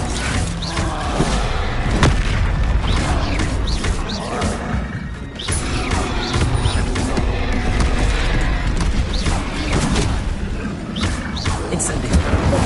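Spell blasts crash and boom from a Harry Potter video game, with explosive Bombarda hits, clatter and debris in a dense, loud, continuous battle mix that runs the whole time.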